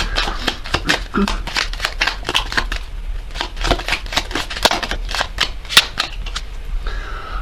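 A deck of oracle message cards is shuffled in a rapid run of crisp riffles and flicks, close and fairly loud, while a voice talks faintly underneath.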